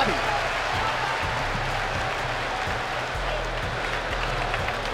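An arena crowd in Abu Dhabi applauds after a UFC bout goes the full distance, a thick, sustained roar of clapping with a voice faintly audible underneath.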